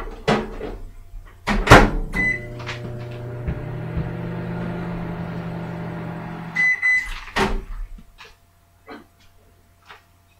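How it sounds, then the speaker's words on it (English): Door clunks and beeps, then a microwave oven hums steadily for a few seconds cooking spaghetti squash before stopping with a beep and a door thud. "And now we microwave."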